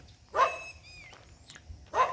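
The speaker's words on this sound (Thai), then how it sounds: "เห่าทำไมจ๊ะ" A dog at a relaxed resort in Lampang, Thailand barks twice, about one and a half seconds apart, fairly close and loud, with quiet background between the barks and no talking.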